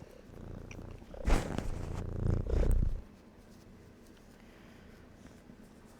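Marcel, a big pet cat, purrs close by. A louder rustling swell comes first, then the low purring settles to a quiet hum.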